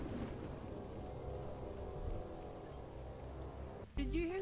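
Rain falls in the video game Lethal Company as a continuous hiss over a low rumble. A sudden louder burst of other game sound cuts in near the end.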